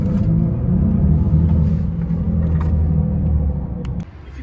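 Synthetic drive sound from a Mercedes-Benz EQE electric car, a low steady hum and rumble heard from inside, fading slightly near the end as a few small clicks come through.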